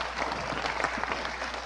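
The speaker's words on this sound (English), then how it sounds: "Let's keep the applause going for all of our" An indoor conference audience gives a dense, sustained round of clapping for Region 1 leaders, Toshaos, CDC chairs and senior councillors at the National Toshaos Council conference.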